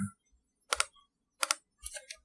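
Brief bursts of typing on a computer keyboard, a few quick clustered key clicks followed by a firmer press of the enter key, close and clear against near silence.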